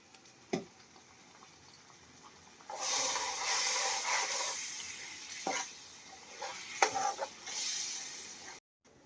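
A ragi flour mixture with a pinch of salt is stirred in a pan for a ragi barfi sweet. Quiet scraping and soft sizzling come in uneven bursts after a brief, hushed start.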